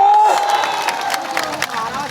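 Outdoor crowd of followers at a political gathering in Bihar applauding and cheering loudly, with whoops and shouts over continuous clapping, close and sustained throughout.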